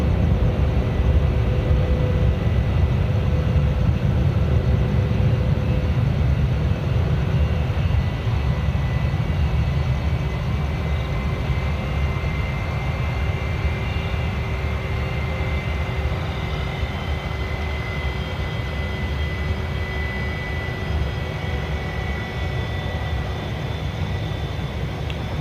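A Jetstar airliner at Sydney Airport, its engines a steady, moderately loud low rumble with a faint whine that carries on for the whole stretch without talk.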